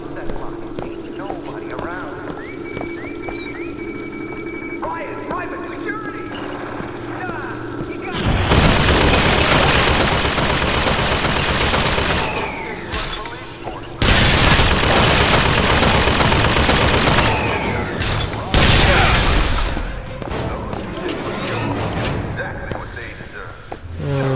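Turret gunfire in the video game Bioshock Infinite Burial at Sea, loud sustained bursts of rapid automatic fire with booms, broken by short pauses and preceded by quieter game sounds and a voice talking.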